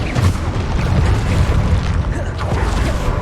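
Bombarda spell explosions in Hogwarts Legacy, deep rumbling booms and bursts rolling continuously, loud and close, with chaotic spell effects layered over them.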